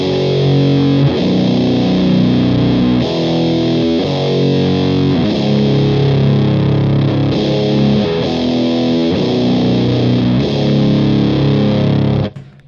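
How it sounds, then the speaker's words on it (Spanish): A KMA Machines distortion pedal in KMA mode drives a heavily distorted electric guitar riff, with thick palm-muted chugs and sustained chords repeating in steady phrases, loud and continuous until an abrupt stop near the end. "Vamos a escuchar el modo KMA que haría aquí."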